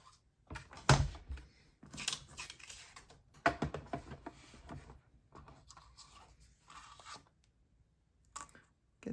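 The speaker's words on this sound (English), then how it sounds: "We'll bring back our Stampin' Cut and Emboss machine." A Stampin' Cut and Emboss die-cutting machine being set up and cranked, with irregular clicks, taps and rubbing knocks in a quiet room, some louder thumps early on, no talking.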